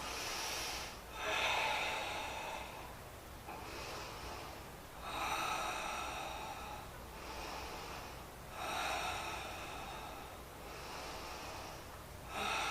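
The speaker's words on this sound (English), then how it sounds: "Big breath, 5 of them. 5 breaths." Slow, deep breaths during a yoga twist, each long inhale and exhale heard clearly and close, repeating at an even pace about five times with no talking.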